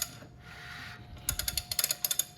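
A freshly built Honda F24 engine is turned over by hand, a soft whir followed by a close run of crisp mechanical clicks and ratcheting ticks in an uneven rhythm.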